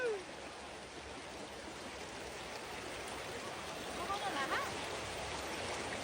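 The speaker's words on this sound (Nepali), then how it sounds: "यहाँ चाहिँ हामी खोला तार्न लाग्छौँ है गाइस" River water rushing during a crossing, a broad steady wash of flowing noise, fairly faint and continuous, with voices faintly present at times.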